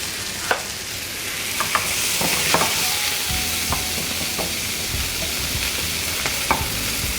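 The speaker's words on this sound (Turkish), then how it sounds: "böyle hafif ezerek yapıyoruz ki hem topaklanmasını önlüyoruz hem de her bir etin eşit bir şekilde pişmesini sağlamış oluyoruz" Minced meat fries in a pan for Ali Nazik while a spatula presses and stirs it, making a steady, loud sizzle with sharp intermittent scraping clicks against the pan.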